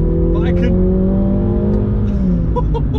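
MINI GP3 hot hatch driving on a track, its engine droning loudly and steadily with a slight rise in pitch, cabin noise throughout and a few faint clicks above it.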